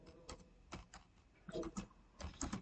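Bursts of keystrokes on a computer keyboard while Arduino code is typed into the IDE, quick clicky taps arriving in short irregular clusters at close range, with no voice heard.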